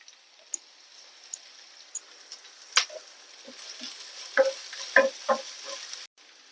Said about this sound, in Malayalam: നമ്മൾ എടുത്ത് വെച്ചിരിക്കുന്ന കറിവേപ്പില നല്ലോണം ഇളക്കി കൊടുക്കാം